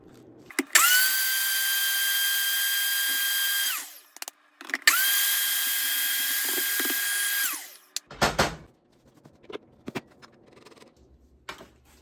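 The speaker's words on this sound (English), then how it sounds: "I just used my NutriBullet to grind it up" A NutriBullet grinding sun-dried cayenne peppers, two loud sustained whining bursts of about three seconds each, separated by a short pause, followed by clattering handling sounds and quiet knocks.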